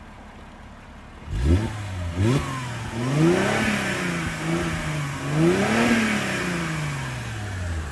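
A Mercedes SLK 350 engine starts, settles into idle, then is blipped several times, each rev rising and falling in a moderate, fairly restrained tone heard from nearby.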